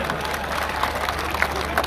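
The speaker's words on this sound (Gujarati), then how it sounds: "પાડો પાડો તાળી" An audience at a Diwali gathering claps in a dense, continuous wash of applause that sustains evenly throughout.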